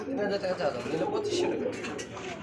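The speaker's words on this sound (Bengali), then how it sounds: "লাহোরি কবুতর" Lahori pigeons coo softly in a steady low murmur, several birds overlapping close by in a small loft, with faint background noise throughout.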